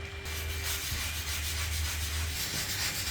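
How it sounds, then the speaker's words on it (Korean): Rusty metal scrubbed with a stainless steel scouring pad, producing a continuous close, gritty rubbing hiss with a low steady hum beneath, no voices. "올스텐 수세미로 부드럽게 문질러 보겠습니다"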